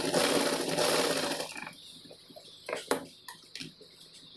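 Electric sewing machine stitching white lace onto fabric, a steady rapid whirring run that slows and stops, followed by scattered clicks and knocks of the machine and fabric handling, close and alone.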